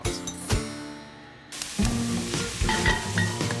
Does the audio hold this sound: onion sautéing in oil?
yes